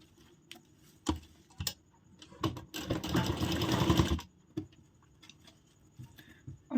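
A sewing machine runs in one short burst on a blouse sleeve, stitching the second side, set among scattered handling clicks and taps before and after.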